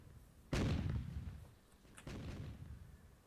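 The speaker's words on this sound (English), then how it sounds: "Now that definitely is a marathon rocket launcher sound" A rocket launcher fires in the fantasy strategy game Myth II, a Marathon-style weapon: a loud booming launch followed by a decaying rumble, then a second, softer blast about a second and a half later.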